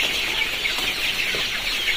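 Local desi chickens clucking and chirping steadily in a noisy coop on a poultry farm, several birds calling over a constant hiss of background noise.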